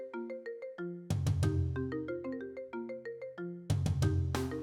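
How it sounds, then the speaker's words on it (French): Mobile phone ringtone playing a bright, bouncy melody of clear synthesized notes, loud and close, with a bass-backed phrase that repeats. "Willy, c'est ton téléphone qui sonne?"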